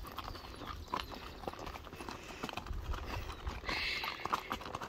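Horse hooves clip-clop steadily during a horseback ride through the Andes near Vilcabamba, Ecuador, with a continuous rhythmic plodding over a faint outdoor background.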